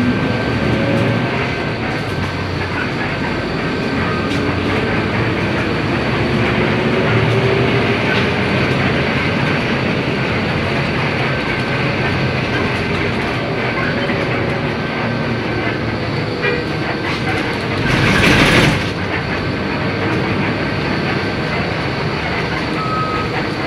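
Steady loud rumble and road roar inside a TransJakarta bus driving along the dedicated busway lane in Jakarta, with a faint electronic tone above and one brief louder swell near the end.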